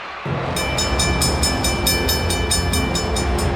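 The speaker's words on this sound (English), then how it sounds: "the railway line switched after the train went past" A cartoon train roaring past on a railway line, a loud, steady rumble with a rapid rhythmic clatter of wheels across the rails from about half a second in, no speech.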